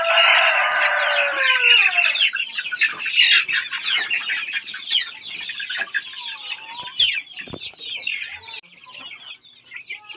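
Crossbred chickens on a farm, a dense chorus of clucking and squawking with a rooster crowing, loud and close at first and then thinning into scattered calls, with no talk.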